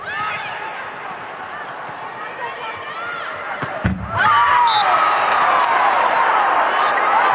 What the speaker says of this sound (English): The crowd really getting into this game.